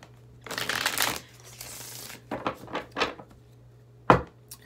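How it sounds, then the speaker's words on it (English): A deck of tarot cards is shuffled in several short bursts of riffling and shuffling, close and fairly soft, separated by brief pauses and ending with a sharper snap. "Three more shuffles."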